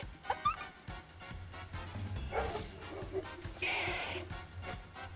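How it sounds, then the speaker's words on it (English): The speaker's dogs bark a few times, faint and somewhat distant, in short irregular yips mixed with other background noise. "As my dogs bark"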